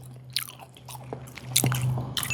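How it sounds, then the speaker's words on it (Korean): Close-up wet chewing and soft squelchy bites of raw red sea bream sashimi, irregular mouth sounds over a low steady hum, no talking. "씹는 재미가 있습니다."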